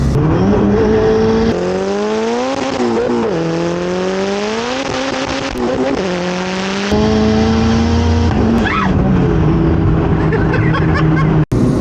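A loud, close 700-horsepower turbocharged Honda Civic at a drag racing event revs repeatedly, its pitch climbing and dropping in sweeping surges with a harsh exhaust roar throughout.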